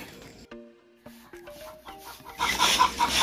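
Three-month-old Black Australorp chickens of an Italian line cluck up close in short, separate calls, with a louder burst of rustling clucks near the end.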